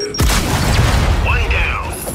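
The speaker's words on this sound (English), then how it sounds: "keep your head down and blind toss a grenade" Grenade blast in the Gears of War 5 video game: one sharp burst followed by a sustained low rumble, with faint mechanical game tones near the end.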